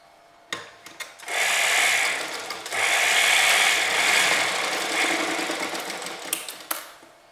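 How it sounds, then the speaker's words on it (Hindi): A sewing machine stitches along the side seam of a girl's skirt, starting with a few short clicks and then running in two steady whirring bursts with a brief pause between, close by. "तो अब हम इस तरफ से सिल लेंगे और सेम इसी मेथड से हम वो साइड भी सिल लेंगे।"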